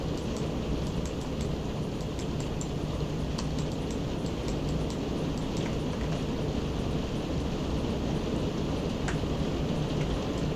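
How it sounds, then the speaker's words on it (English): Heavy rain pours in a continuous loud wash, with faint scattered drops ticking through it and no talk. "Sorry if there's rain coming through."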